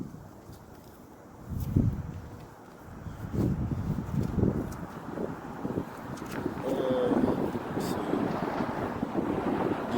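Gusty wind buffets the microphone in a steady low rumble that swells and eases, with faint voices in the background.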